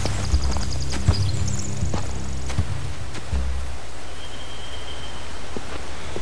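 Horses in The Walking Dead video game shuffle and clop nearby, with a few hoof knocks and a brief whinny early on, fading into a steady rain-like background hiss with no talking.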